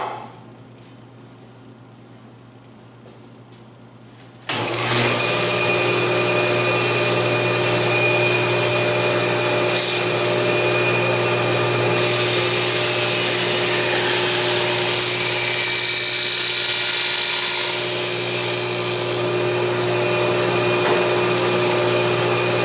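A table saw fitted with a barrel taper jig starts up abruptly and runs at a loud, steady high-pitched whine while cutting the taper in wood, continuing unbroken for nearly twenty seconds after a quiet lead-in.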